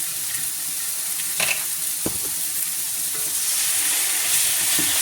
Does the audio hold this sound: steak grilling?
yes